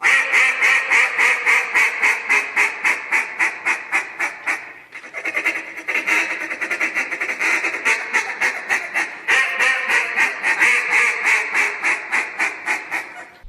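A live duck call contest run by a California caller using JJ Lares calls, sounding out rapid, loud quacking sequences in steady rhythmic bursts with a brief pause midway, a human-blown call closely imitating a duck.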